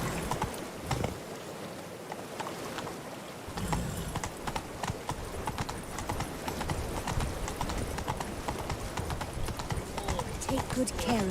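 Horse hooves clip-clop steadily on the ground as a mount trots along in The Witcher 3, with game ambience and occasional voices over the continuous rhythmic steps.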